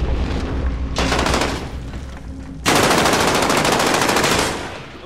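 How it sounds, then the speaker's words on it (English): Rapid automatic gunfire in a video game firefight, a short burst, a pause, then a longer loud sustained volley of machine-gun fire that tails off near the end, close and punchy with no talk. "I'm taking fire"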